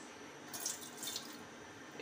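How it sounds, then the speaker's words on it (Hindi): Water pours from a tap into a pot of rice for washing, a soft, faint running stream with a couple of brief splashy swells. "इसमें डालूंगी थोड़ा सा पानी"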